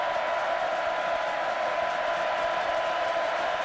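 A football stadium crowd at a 2002 Oklahoma vs Texas A&M game gives a steady, distant roar of cheering, sustained and even throughout.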